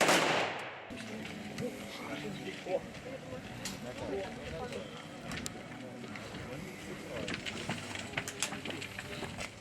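A sharp, loud rifle volley fired as an honor salute at a Ukrainian volunteer soldier's funeral bursts out at the start, followed by a noisy crowd and scattered clicks and clatters.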